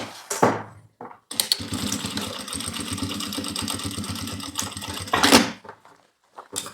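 Sewing machine topstitching both sides of a multipurpose bag, a close rapid mechanical chatter running for about four seconds, framed by short bursts of handling and fabric noise before and after.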